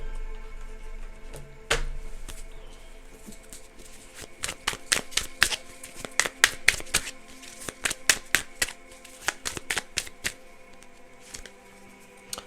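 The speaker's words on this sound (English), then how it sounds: "let's grab a stack of index cards before we wrap" A stack of index cards being handled and shuffled, with a rapid run of crisp flicking snaps after a few scattered taps, close and clear against a quiet background.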